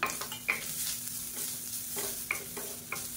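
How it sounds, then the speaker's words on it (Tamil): Grated coconut sautéed in ghee in a pan, soft sizzling under intermittent scraping and stirring strokes, close and fairly quiet. "1 கப் அளவுக்கு துருவன தேங்காய் எடுத்துருக்கேன். இதை சேர்த்துக்கலாம். சேர்த்து நல்லா வதக்கி விட்டுக்கலாம்."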